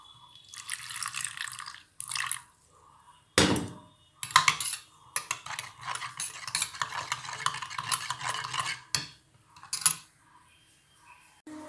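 Ground cumin, Kashmiri chili, red chili, turmeric and salt being mixed with water in a bowl: intermittent wet stirring bursts and spoon clinks with short pauses between, close and fairly quiet.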